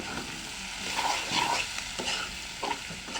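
Sliced potatoes and onions fry in a pan for an egg dish, giving a soft steady sizzle with repeated spatula stirring and scraping strokes, close and fairly quiet, with no talking.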